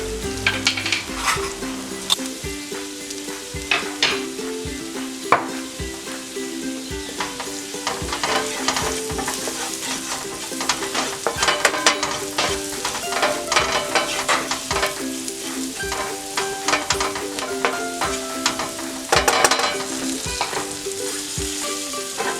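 Fried rice with tofu and vegetables sizzles loudly in a pan as curry goes in, with steady frying hiss broken by frequent scraping stirs and occasional utensil clinks throughout.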